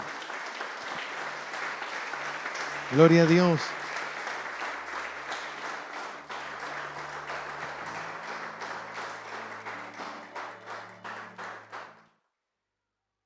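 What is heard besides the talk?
congregation applauding in church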